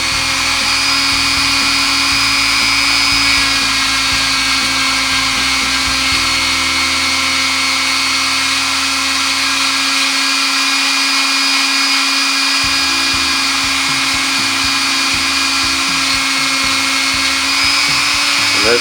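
A power tool polishing the feed ramp of a Taurus pistol gives a loud, continuous high whine whose pitch and load shift midway before steadying again.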